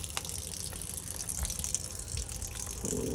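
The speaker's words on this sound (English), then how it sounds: "So it seems there's a whole process to get the water to come out. I gotta put the lever down." Water gushing from a lever-operated tap at a washbasin in a Japanese railway station, a continuous splashing rush with small clunks and a fuller flow toward the end, with no talk.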